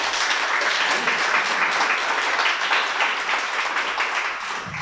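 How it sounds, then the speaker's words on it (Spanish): A congregation at a Torah teaching claps in sustained, dense applause, loud and even for several seconds before easing slightly at the end. "Vamos a dar un aplauso al Creador."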